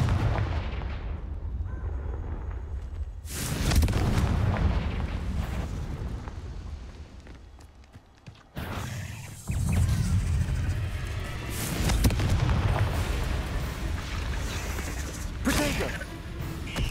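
Confringo blasting spells in Hogwarts Legacy detonate in loud, booming explosions with crackling debris, several heavy bursts following one another, with a short quieter gap in the middle.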